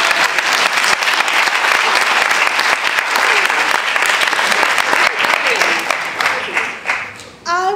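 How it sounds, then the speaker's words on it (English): A festival discussion audience gives a loud, sustained round of applause, dense clapping throughout with a few voices and cheers rising near the end as it tapers. "let's give them a round of applause"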